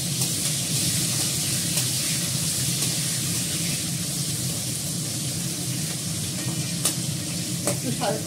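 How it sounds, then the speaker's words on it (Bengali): Onion fries in a pan with a dense, even sizzle close by, and a few light stirring taps sound near the end. "প্রথমে আমি পেঁয়াজটাকে ফ্রাই করব।"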